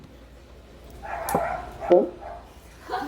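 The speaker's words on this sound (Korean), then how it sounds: "멍멍이가 짖네" A dog barks a few times in the background, short yips and bow-wows spaced apart, behind a brief exclamation from a person indoors during a lesson.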